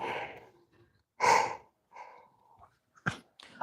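A person yawning with breathy exhales and sigh-like bursts, one long and loud and a shorter one near the end, with quiet pauses between.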